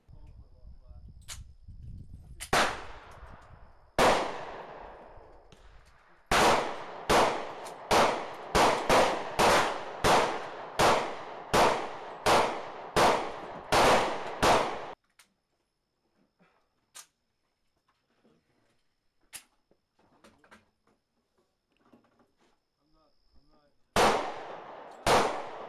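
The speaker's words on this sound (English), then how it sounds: "So I had to duel it with the Glock in the right, Sig in the left" A Glock 27 and a Sig Sauer P239 fired dual-wielded, sharp loud pistol shots: a few scattered reports, then a fast run of about a dozen evenly spaced shots, a quiet gap with faint knocks, and two more shots at the end.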